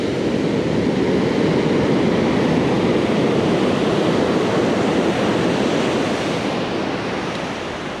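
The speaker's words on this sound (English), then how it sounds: "Those are short-lived waves. They're not bad in size" Ocean waves breaking steadily on Limantour Beach in Northern California, a continuous loud wash of surf with some wind noise, no voices.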